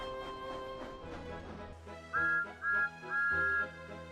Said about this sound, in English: He then heard Thomas's whistle.